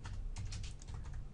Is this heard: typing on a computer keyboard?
yes